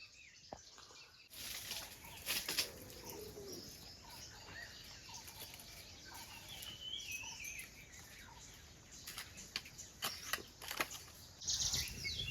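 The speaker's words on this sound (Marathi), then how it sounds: "पक्ष्यांचा आवाज मस्त." Birds chirp and coo in the open in the morning, scattered calls near and far over a quiet outdoor background.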